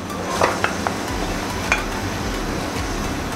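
Marinated beef goes into hot oil with onions, a close, steady fry and sizzle with a few sharp pan and utensil clinks from stirring, no voices.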